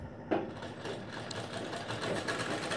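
A sewing machine stitches piping along the edge of a square neckline, running as a steady close mechanical whir with a faint rapid needle rhythm, quiet and continuous without speech.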